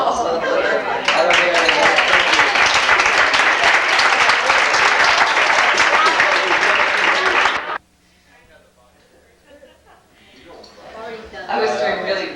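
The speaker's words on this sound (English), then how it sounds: "this moment when you all clapped me and thanked me for all I've done" A room of staff at a luncheon applauds someone with loud, sustained clapping that stops abruptly, followed by quiet murmuring and a little talk.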